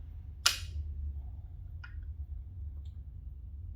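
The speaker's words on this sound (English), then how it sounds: "Probably shouldn't use this hammer, but it's what's laying here, so that's what I'm going to use." A hammer tapping a Timken seal into place on a 1981 square body Chevy C10: one sharp metallic tap followed by two lighter taps, close and isolated over a low steady hum.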